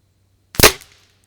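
A single sharp crack from a budget spring-piston air rifle firing a JSB 8.44 pellet, close and loud, decaying quickly into silence after a brief quiet lead-in.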